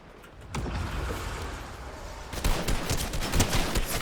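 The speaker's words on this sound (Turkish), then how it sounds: "Bak yine bana sıkıyorlar yardım" Fortnite gunfire from a match shortly after landing with a pump shotgun, a dense burst of shots that starts about half a second in and grows louder and more clustered in the final seconds, without talk.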